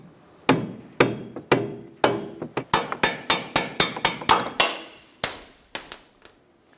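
A soft-face hammer drives a bolt out of the steering knuckle on a 2012–2020 Chevrolet Sonic, sounding as a series of sharp, loud metallic blows, slow at first and then quickening into a steady rapid rhythm, with a faint ringing toward the end.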